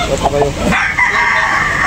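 Rooster crowing at a chicken selling event, one loud drawn-out crow close by that rises and then holds a long strained note, with a voice talking briefly near the start.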